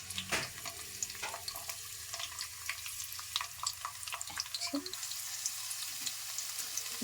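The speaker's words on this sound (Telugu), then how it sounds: "ఆయిల్ అనేది బాగా వేడెక్కిన తర్వాత మనం కట్ చేసి పెట్టుకున్న ఆనియన్స్ వేసేసుకుందాం." Chopped onions hit hot oil in a pan and sizzle steadily with bright crackling, close by, with some scraping and clinking in a home kitchen.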